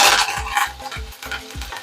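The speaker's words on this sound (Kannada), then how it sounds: "ಹಸಿ ಮೆಣಸಿನ್ಕಾಯಿ ಹಾಕ್ತಾ ಇದ್ದೀನಿ ಮತ್ತೆ ಕರ್ಬೇವು ಹಾಕ್ತಾ ಇದ್ದೀನಿ" Green chilies and curry leaves sizzle in hot oil for a curd rice tempering, a bright hiss under quick, regular clinks of a spoon against the pan.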